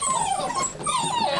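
A mother dog whimpers and whines in a yard among her puppies, close and fairly loud, with two wavering high-pitched cries separated by a brief dip.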